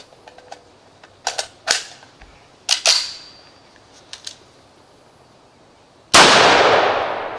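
Live-ammunition gunshots from a firearm during a combat reload and weapon-transition drill: a few sharp, loud cracks spaced irregularly, then one very loud close blast near the end.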